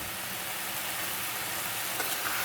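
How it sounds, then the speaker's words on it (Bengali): Chicken pieces sizzle steadily in a hot pan with spices and salt while being sautéed for biryani, a continuous broadband frying hiss with no distinct stirring strokes. "এখন এটাকে আমি ভালোভাবে আবার এটার সাথে কষাবো।"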